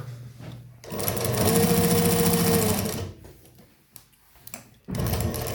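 Juki DNU 1541 industrial sewing machine with a servo motor stitching felt and leatherette with thread 30 on a long stitch, one sustained run of rapid stitching followed by short clicks and then a second burst, with no one talking.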